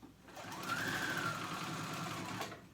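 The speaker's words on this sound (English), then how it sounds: "I'm edge stitching, and actually I need to go out a little bit farther to the edge." A sewing machine edge stitches fabric for a romper, running in one steady, close whir for nearly three seconds before stopping.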